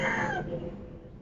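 Chicken clucking and crowing, a short, close rooster-like call that fades quickly into a low background.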